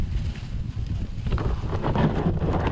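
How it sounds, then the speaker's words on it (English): Loud, rumbling wind buffets the microphone continuously, gusting stronger toward the end. "sorry about the wind."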